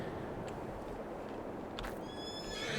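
A horse in the Farming Simulator 22 video game gives a high, wavering neigh near the end, preceded by faint clip-clop hoof sounds over a low, steady ambient hum. It is fairly quiet overall.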